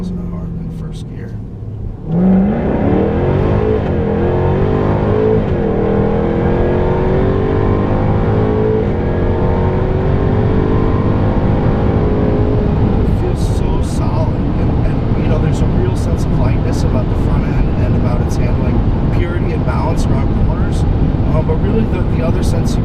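A 2016 Jaguar F-Type R AWD coupe's engine pulls hard through the gears, a loud, rising, continuous roar heard from inside the car as a person talks over it.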